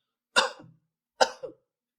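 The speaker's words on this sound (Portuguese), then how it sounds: "pedir para esse paciente dar 2 tossidas" A patient gives two coughs during a diaphragm-release physiotherapy session, each sharp and close, separated by a short pause in an otherwise quiet room.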